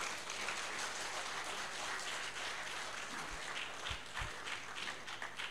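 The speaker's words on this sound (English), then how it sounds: "That's another round of applause." A crowd applauds steadily throughout, a dense wash of clapping with a few louder individual claps near the end.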